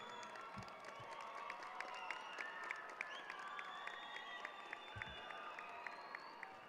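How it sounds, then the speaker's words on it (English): A large crowd at a high school graduation applauds. The clapping is faint and distant, a steady patter with occasional louder claps and no clear voices. "Students, please give your parents a round of applause"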